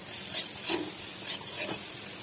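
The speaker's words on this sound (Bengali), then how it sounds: "হলুদ এবং লবণ দিয়ে বেগুনটা আমি ভেজে নিচ্ছি।" Eggplant frying with turmeric and salt in a pan gives a steady soft sizzle, with a few brief stirring scrapes standing out near and alone.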